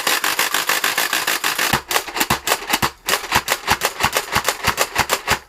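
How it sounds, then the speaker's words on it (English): Nerf Mega Megalodon blaster drum being turned, giving a rapid, loud series of plastic ratcheting clicks, steady at first, then in quicker bursts of individual snaps close to the mic. "the drum is in, and it makes a phenomenal ratchety noise when you turn it"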